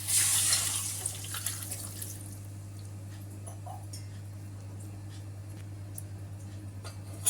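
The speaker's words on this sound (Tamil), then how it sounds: "இப்போ இந்த குழம்புக்கு தேவையான தண்ணியையும் சேர்த்திடலாம்" Water is poured into cauliflower kurma gravy in a pan with a short rushing splash at the start that fades into faint bubbling and a few small clinks, over a steady low hum.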